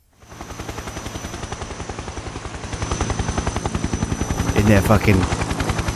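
A helicopter's rotor chops in a fast, even pulse throughout, loud and close, with someone briefly talking over it near the end.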